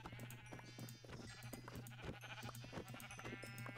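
Sheep bleat repeatedly in Minecraft, several short game-style bleats overlapping against a steady background hum, close and fairly loud throughout.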